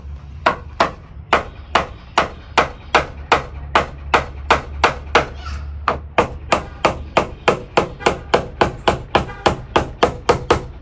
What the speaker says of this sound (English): I'm just going to go nice and easy with the hammer.